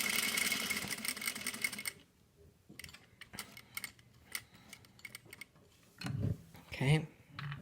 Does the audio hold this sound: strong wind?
no